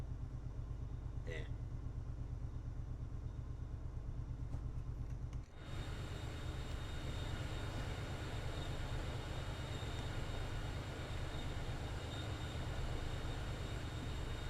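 Diesel locomotive HSP-46 in Train Sim World 5, running under catenary on the Boston to Providence line, gives a steady, loud engine drone and rail rumble throughout, with a brief dip partway before the drone resumes, slightly fuller.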